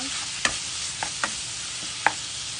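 Garlic, onion and celery sautéing in a pan for Filipino ginisang gulay, a steady close sizzle broken by four sharp utensil scrapes and clinks, with no talk.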